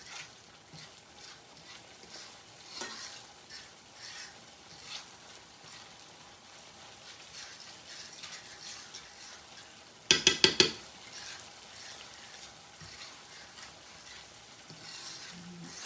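Chorizo frying in a pan gives a steady low sizzle, stirred now and then, with a brief burst of sharp metallic scrapes and clinks of a utensil against the pan partway through; no one speaks.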